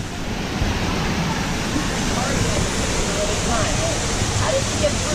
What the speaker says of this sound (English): Here we are at the waterfall.